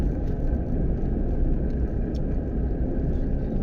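A car drives at night along a forest road in Nawegaon National Park, its engine a continuous low rumble and whir, fairly close and steady, with no talking.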